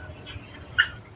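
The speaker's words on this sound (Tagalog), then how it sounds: "my favorite pet, my favorite baby dog, oldest dog siya po guys" A very old dog whimpers faintly in a short, thin whine, with a slightly louder peak near the end over a quiet background, no talking.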